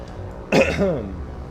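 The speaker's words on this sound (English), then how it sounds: "I don't mean to cough into the mic like that." A single harsh cough right into the microphone, loud and brief, fading into a short rough exhale.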